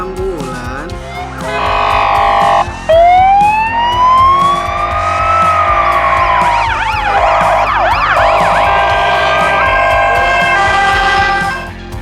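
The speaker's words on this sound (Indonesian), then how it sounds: "Mobil ambulan." A toy ambulance wails with a loud electronic siren, first a rising and falling sweep, then a fast warbling yelp, held steady and close for most of the twelve seconds.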